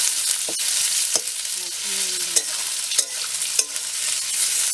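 Onions fry in hot oil to make beresta for chicken biryani, a continuous close sizzle broken by several sharp scrapes and clinks of a spatula stirring the pan.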